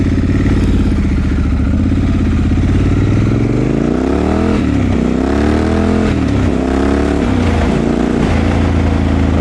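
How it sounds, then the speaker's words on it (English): Naked motorcycle ridden on the road, picked up from a helmet: loud, close engine drone that rises and falls through several rev sweeps and gear changes, with heavy wind rush underneath. "let's get this bike on the road, and you can hear what it sounds like when I'm riding."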